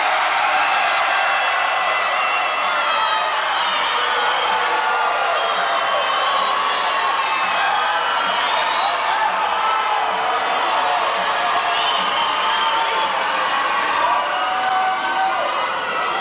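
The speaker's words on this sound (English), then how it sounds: "now that's what I call a cheer" A crowd at a Marineland show cheers and shouts continuously for several seconds, a dense, loud roar of many voices with children's shrieks mixed in.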